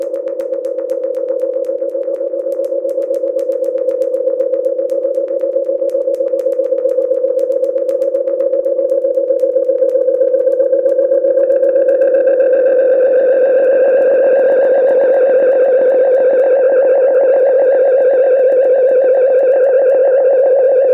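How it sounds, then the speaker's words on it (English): A sustained synth tone runs through the Echo Rec echo emulation app by Genuine Soundware, loud and steady with distorted, repeating echo tails that thicken into layered upper harmonics partway through. "This is their Echo Rec emulation."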